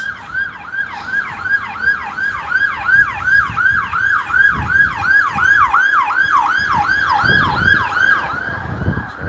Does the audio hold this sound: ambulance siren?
yes